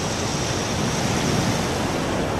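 Niagara Falls in Ontario roars as a dense, unbroken wash of rushing water, loud and steady with no pauses or other sounds.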